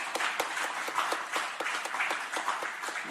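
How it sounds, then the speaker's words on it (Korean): Steady applause from a congregation at a church thanksgiving service in Ilsan, South Korea, dense overlapping claps with a few sharper nearby ones, continuing evenly throughout. "우리 함께 감사의 박수 한번 드리겠습니다"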